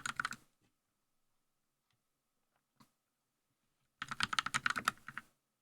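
A modded mechanical keyboard fitted with foam and swapped switches is typed on close up, giving two bursts of quick, muted clacking keystrokes separated by near silence with a single stray click.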